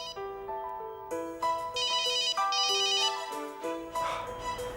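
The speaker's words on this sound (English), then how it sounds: "The chamber is primed and ready for the cell phone blast test." Inside a primed test chamber, a cell phone plays a tuneful electronic ringtone of stepped notes and buzzy trills, looping clearly without talk.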